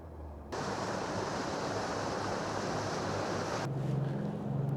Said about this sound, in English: I got a huge boat coming up behind me.